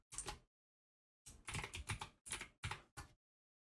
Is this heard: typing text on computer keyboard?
yes